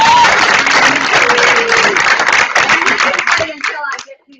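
An audience at a company recognition day award ceremony applauds loudly and continuously, dense clapping that fades out near the end as a voice begins speaking.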